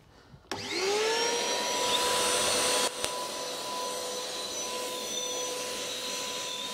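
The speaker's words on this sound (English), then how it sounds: "Try this belt sander first." Belt sander spinning up and running steadily while sanding a metal mast tang, a loud, close, continuous whine with a brief knock partway through.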